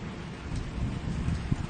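Rain falls steadily around a wet electric car parked outdoors in northwestern Australia, a soft continuous hiss with a faint low rumble, fairly quiet and with no voices.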